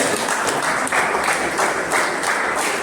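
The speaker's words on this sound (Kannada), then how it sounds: "ಹುಮ್ಮಸ್ಸಿನಿಂದ ಚಪ್ಪಾಳೆ." An audience of farmers at an organic farming training session claps vigorously and continuously, a thick, loud wash of hand claps that swells slightly in waves without pause.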